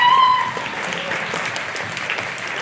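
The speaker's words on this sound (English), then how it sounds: "can we give a clap to the mummies and daddies who helped you for the last months getting you here?" Children clapping for their parents after a musical, lighter scattered applause following a brief tone at the start, moderate and continuous.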